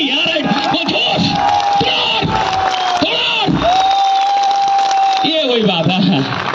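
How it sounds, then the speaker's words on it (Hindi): Audience at a talk in Jodhpur giving Rajasthani-style applause, a loud burst of clapping mixed with whooping and cheering voices, with long sustained shouted calls rising over the crowd. "मैं चाहूंगा कि एक बार राजस्थानी स्टाइल में तालियां हो"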